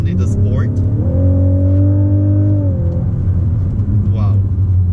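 A 2018 Lexus LC 500h hybrid with a 3.6-litre V6 and electric motor drives in Sport mode, its engine a steady loud rumble that rises in a sustained rev before settling, with someone speaking briefly over it.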